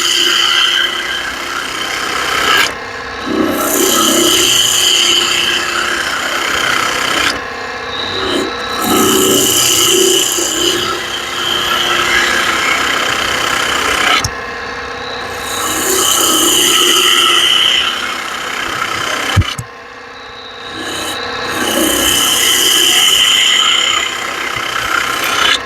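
A wood lathe spins at about 1800 RPM, giving a steady whirring drone with high squealing bursts as the tool cuts the workpiece. The cuts come in repeated passes with short pauses between them, close and loud.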